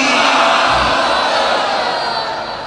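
A large crowd at a religious gathering roars a loud collective chant in answer to the Nara-e-Takbeer call, a dense sustained shout of many voices that fades slightly at the end.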